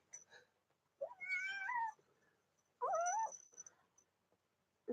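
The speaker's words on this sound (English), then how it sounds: "You hear her meowing" A cat gives two drawn-out, rising and falling meows close by, separated by a quiet pause, with faint softer sounds in between and a third cry beginning at the end.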